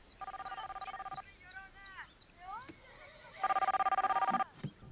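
Telephone rings in a Breaking Bad episode, two bursts of rapid trilling electronic ring separated by a stretch of warbling tones.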